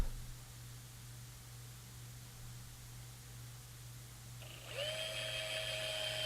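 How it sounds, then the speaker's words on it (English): A drill boring into a guitar headstock to reach the truss rod: a steady low hum and hiss give way near the end to a rising, high-pitched motor whine as the bit spins up. Faint and close. "And drilling for access to the truss rod."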